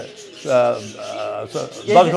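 Pigeons at a pigeon-flying club coo in a few close, soft bursts, with some voices nearby.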